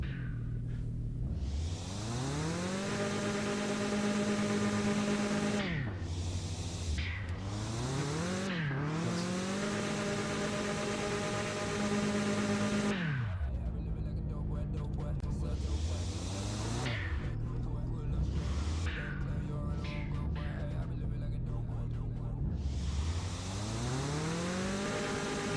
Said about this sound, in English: my car sounds more awful than I expected it to